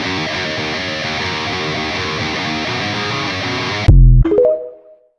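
Distorted electric guitar riff with sliding chords, taken from Fortnite Festival, chugs steadily for about four seconds, then a sharp heavy hit and a ringing slide that fades out.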